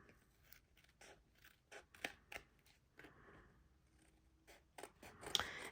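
Scissors cut through magazine paper during junk-journal crafting, giving a series of short, crisp snips and rustles close by at a quiet level, with no talking.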